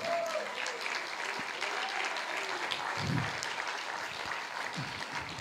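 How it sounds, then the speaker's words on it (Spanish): Congregation at a church service applauds in continuous, moderately distant clapping, with a couple of low thumps partway through. "Den un aplauso al Señor"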